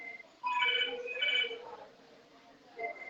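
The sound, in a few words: telephone ringing in a dog grooming shop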